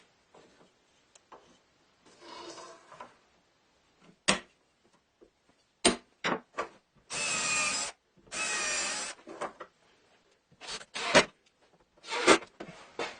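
A power drill mounting drawer slides inside a wooden cabinet, heard as short whirring bursts that repeat in spurts, two of them longer, with clicks and knocks of handling in between.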